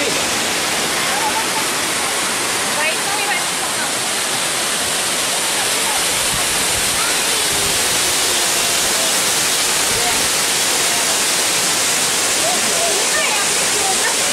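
Bhagsu Waterfall near McLeod Ganj, India, roars loudly and continuously, a broad, dense wash of falling water that stays constant throughout and drowns out everything else.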